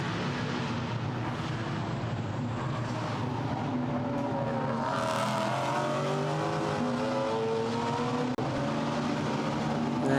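GT4 race cars at the Misano circuit roar past in a steady blend of engine noise, one car's revving note rising and falling as it sweeps through a corner under continuous track ambience.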